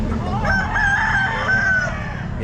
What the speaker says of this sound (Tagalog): laki ng manok na to